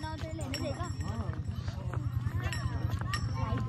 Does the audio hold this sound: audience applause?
no